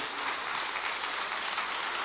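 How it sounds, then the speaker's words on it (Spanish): A church congregation claps loudly and briskly in praise, a dense, continuous burst of many hands without pause. "Dale otro fuerte aplauso al Señor."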